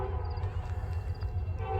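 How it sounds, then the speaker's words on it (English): Southbound ballast train 96Z on the D&H line, led by a long-hood-forward locomotive, passing with a steady low diesel rumble and continuous rail noise, plus a faint horn tone riding above. "This is a southbound ballast train, 96Z."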